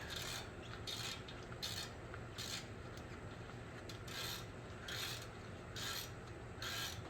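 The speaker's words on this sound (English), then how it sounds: "Just tighten them back." A ratchet wrench clicks in repeated bursts while bolts are tightened on the front brakes of a 2014 Nissan Altima, with rhythmic rasping pulls and brief pauses between strokes, close and without talk.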